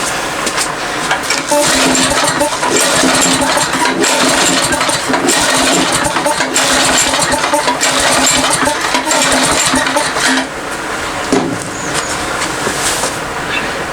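A Poulan Pro push-behind weed wacker engine is pull-started and runs loud and steady with a rough, buzzy roar that dips briefly near the end before picking back up.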